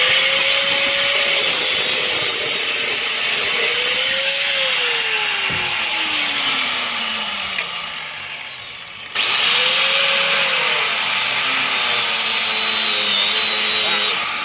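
Power cutting tool slicing through car muffler brackets under a new car, a loud continuous grinding whine that shifts pitch, dips briefly mid-way, then surges back, with people talking nearby.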